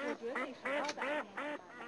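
Ducks swimming in flooded rice paddies give a run of about six nasal quacks in quick, uneven succession, fairly close and clear, with no talk over them.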